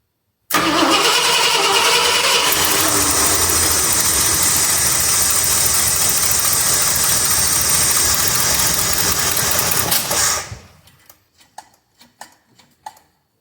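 A 1966 Ford Galaxie 500 with a 390 FE V8 and four-barrel carburetor cranks, fires and runs loud and close with a rough, uneven idle for about ten seconds, then cuts off, leaving faint clicks.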